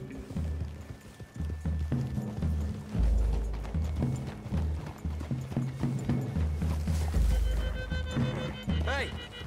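Horses' hooves clip-clop at a walking pace through trees in the video game Red Dead Redemption 2, under ongoing conversation, with occasional low thuds and a horse's snort, fairly close.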